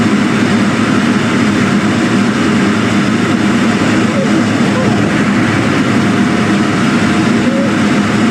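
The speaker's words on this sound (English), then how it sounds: "Look how close this fighter jet gets to the American fighter jet." A fighter jet flies close to another fighter jet, giving a loud, continuous engine roar that holds steady throughout, with a voice talking over it.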